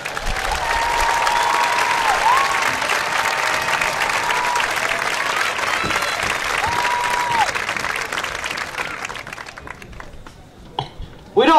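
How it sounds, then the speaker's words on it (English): Crowd applause for marching band members at an annual festival of marching bands in Bethel Park, a loud dense roar of clapping sustained for about eight seconds before thinning out, followed by a few isolated sounds near the end. "How about a round of applause for these dedicated band members?"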